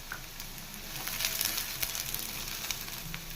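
Onion, garlic and ginger fry in a pan for village-style fish sambar with a soft, continuous sizzle and light crackle. The sound stays fairly close and even, and there is no talking.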